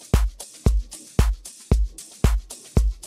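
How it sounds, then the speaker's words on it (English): A deep house drum loop plays alone, a loud, punchy kick landing in a steady pulse with crisp clap and hi-hat hits layered between, repeating evenly throughout. "a drum loop that sounds like this."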